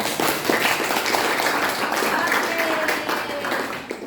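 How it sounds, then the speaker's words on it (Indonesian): A classroom group applauds after a short film presentation, with a dense, even patter of many hands clapping at moderate distance and voices chattering underneath throughout. "Oke, tepuk tangan"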